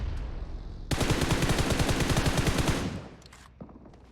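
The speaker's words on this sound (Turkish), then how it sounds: "Arkadan sıkan var oraya." Rapid automatic gunfire in the video game PUBG Mobile, a loud close burst of evenly spaced shots lasting about two seconds, followed by a single fainter report.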